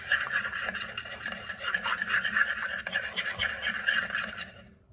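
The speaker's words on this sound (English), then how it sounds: "All right, we're gonna do a few more whisks." Salad dressing with whole grain mustard being whisked in a bowl, a steady fast scraping and rasping of the whisk that keeps up for several seconds before stopping abruptly, with a voice talking over it.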